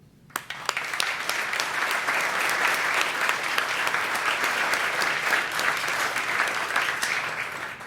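An audience applauds at a 2019 Garnet Athletics Hall of Fame induction ceremony, a sudden swell into dense, sustained clapping from a large crowd in a hall that holds steady for several seconds.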